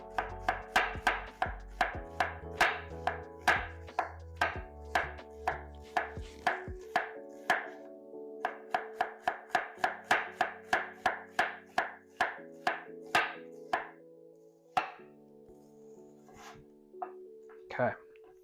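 A red onion is sliced on a mandolin, each pass making a crisp scraping chop in a fast, regular rhythm that pauses briefly and resumes, with a person talking and soft background music throughout.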